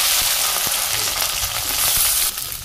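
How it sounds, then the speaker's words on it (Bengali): Okra sizzling and frying steadily in a pan in a Bangladeshi home kitchen, a dense, continuous crackle heard close up with no talk. "ঢেঁড়স ভাজি করে নিব"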